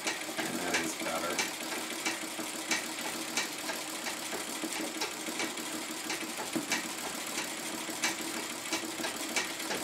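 A treadle sewing machine stitches embroidery with variegated thread, giving a steady, fast mechanical clatter of regular needle strokes that runs throughout at close range.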